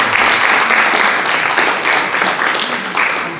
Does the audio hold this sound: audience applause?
yes